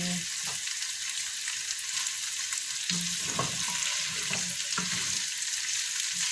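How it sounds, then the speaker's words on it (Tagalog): Adobo sizzles and fries in a pot while being stirred, a steady bright crackle throughout with occasional soft scraping knocks from the stirring, close and alone without talk. "Ang aking kaldero ay sumasayaw habang ginalugay-lugay ang aking sudan."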